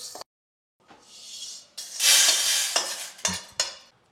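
Chana dal dry roasting in a pan, stirred in scraping bursts with dry rattling grains and a sharp clink or two, broken by a short pause, close and fairly loud.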